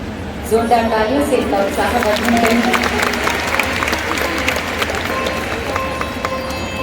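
A crowd claps loudly and steadily at a government launch of four welfare schemes for women, while symbolic cheques are handed to beneficiaries; voices carry over the clapping throughout.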